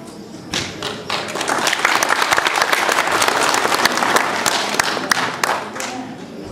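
An audience at a Romanian music event applauds steadily, a dense close wash of clapping that swells and then begins to thin toward the end.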